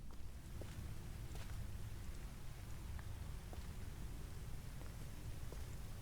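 Steady rain falling in the Uru game world at Ae'Gura, a soft continuous hiss with scattered faint drop ticks, even and unbroken throughout, no voices over it.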